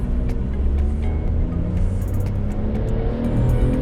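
A Proton X70 car accelerating hard, its engine heard from inside as a steady, loud low drone that holds constant with road rumble, no voices.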